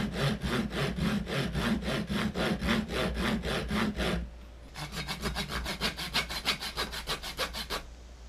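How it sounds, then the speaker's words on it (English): Hand saw cutting into a small carved wooden frog fishing lure, steady rhythmic back-and-forth strokes, close and loud, then a brief pause and a second run of quicker, lighter strokes. "now I need to make a cut that's going to reach down to the hole I drilled"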